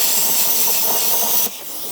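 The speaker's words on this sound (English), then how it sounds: "This CUT55MP is cutting this thing so nice." A CUT55MP plasma cutter slices through square tube with a loud, steady close hiss that cuts off abruptly near the end, leaving a quieter hum.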